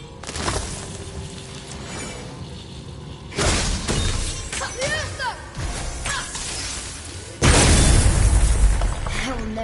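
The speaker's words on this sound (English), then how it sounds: "I will never get tired of shattering things with this." Objects shatter with a crash in a video game, heavy bursts of breaking debris and whooshes that repeat in waves, loud and close over a steady background rumble.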